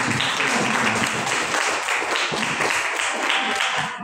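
An audience applauds steadily and fairly loudly throughout, a dense wash of many hands clapping with no pauses.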